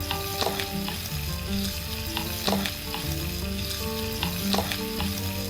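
Chicken pieces brown in a hot pan for a Palakkad-style chicken fry, with a constant close sizzle and frying crackle and occasional stirring clinks.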